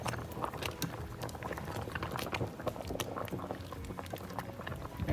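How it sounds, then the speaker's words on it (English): Ogbono soup with cow leg simmering in a pot, giving a steady, close bubbling and popping patter that carries on without a break and without any voices. "it's bubbling so nicely"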